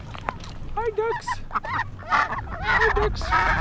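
Ducks and geese on a farm honk and call in a quick, overlapping burst close by during morning chores, the squawks rising and falling under a person's voice greeting them.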